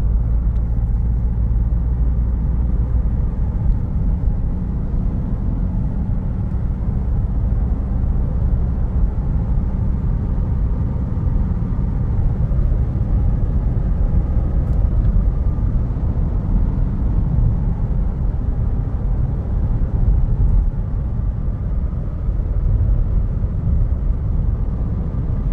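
A Citroen C5 Tourer with a 150 hp 2.0 BlueHDi diesel cruising in sixth gear, heard as a steady, low, droning rumble of engine and road noise throughout.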